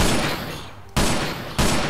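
An AKM rifle in a zombie-survival game fires in loud automatic bursts, three hard-onset volleys of rapid shots with brief pauses between them, close and punchy.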